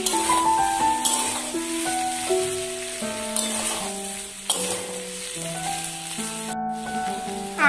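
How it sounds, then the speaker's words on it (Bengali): Ginger paste fries in hot oil in a pan, giving a steady bright sizzle that runs through the whole stretch beneath a louder melodic music bed, with no voices. "এবারে এর মধ্যে দিয়ে দেব 1/2 ইঞ্চি আদা পেস্ট। আদাটাকে 2 মিনিটের জন্য ভেজে নেব।"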